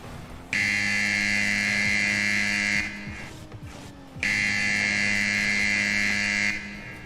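Rocket League's goal buzzer blares twice, each a loud, sustained electronic buzz of a few seconds separated by a short gap filled with quieter game noise.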